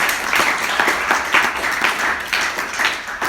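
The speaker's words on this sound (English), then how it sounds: "So a round of applause, please." An audience at the Birdfair 2019 debate claps in a fairly sparse, rhythmic patter, moderately loud, with individual hand claps distinguishable through the short burst.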